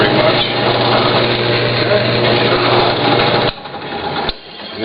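A steady, loud motorized whine of a drill with a metal-drilling bit boring into dense rosewood, running continuously before cutting off abruptly near the end.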